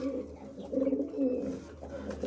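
A pigeon coos in low, soft repeated phrases, fairly close and steady over a quiet background.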